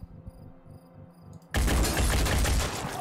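Quiet ambience with faint ticks suddenly erupts into a loud, dense burst of rapid gunfire in Phoenix Point, sustained crackling volleys lasting about a second and a half to the end.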